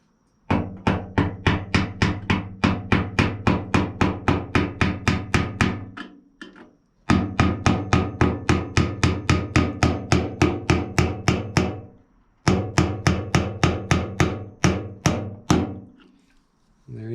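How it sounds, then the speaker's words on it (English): Rapid, evenly spaced hammer taps on a small screwdriver while installing a fuel pump sending unit in a Mustang Fastback fuel tank, loud and close in three long bursts separated by brief pauses. "I always just use a little screwdriver and hammer and just tap it."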